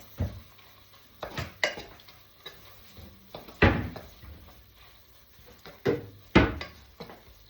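Beef masala for bunny chow being stirred in a pot: a series of irregular scraping, knocking strokes with quiet gaps between them, fairly close and with no talking.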